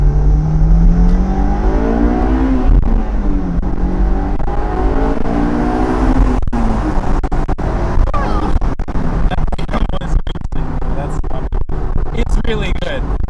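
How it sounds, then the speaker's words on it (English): An AP2 Honda S2000 accelerates with engine revs rising and falling through gears, heard from inside the car with wind noise and some road bumps, while people talk over it. "We're gonna do a little bit of an acceleration."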